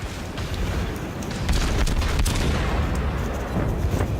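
Warship guns firing in World of Warships on the Königsberg, with dense rumbling booms and overlapping secondary-battery blasts forming a continuous loud barrage.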